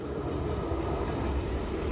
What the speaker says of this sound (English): the train is passing right through here, and probably you're gonna hear it all night